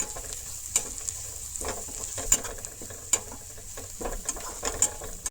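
Onions fry in a pan with turmeric and chili powder, a soft sizzle punctuated by the scraping clicks of stirring, quiet and close with no voices.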